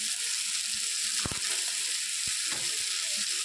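Whole cumin seeds sizzle in hot oil in a pan, a continuous bright hiss with a few small pops and crackles, close and steady, no talk.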